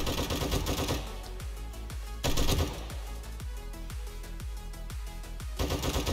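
Gunfire in the video game 7 Days to Die (Alpha 19), a loud, rapid string of sharp shots in quick succession with a few heavier bursts, each followed by a short decaying tail.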